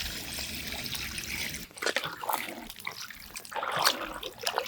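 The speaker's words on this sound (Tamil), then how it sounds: "இந்த நேரத்தில் தண்ணி சேர்த்துக்கோங்க." Water pours and trickles into a pot of village-style chicken curry after the masala has been sautéed, a close splashing, gurgling stream that swells and fades in bursts.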